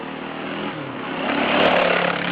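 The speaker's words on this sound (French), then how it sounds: "On entend même le bruit des motos." A motorcycle engine drones past nearby, its revving swelling louder toward the end, with a faint rattle mixed in.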